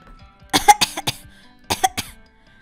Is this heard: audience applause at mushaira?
no